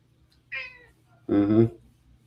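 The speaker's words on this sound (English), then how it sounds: "my fat raccoon cat." A pet cat meows twice indoors, a short higher call followed by a longer, fuller meow, close and clear against a quiet background.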